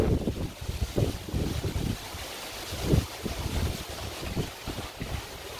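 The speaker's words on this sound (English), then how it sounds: "It's windy." Gusty wind from typhoon Agaton buffets the microphone outdoors in steady rushing waves with periodic louder thumps, moderately loud throughout, while a golden retriever is out in the weather.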